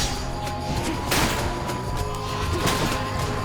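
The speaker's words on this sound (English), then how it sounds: "It's also a big old AoE explosion, which kind of helps groups like that." Big area-of-effect explosion in the action video game Hades, dense crashing bursts and thuds layered over busy game music and effects, loud and continuous.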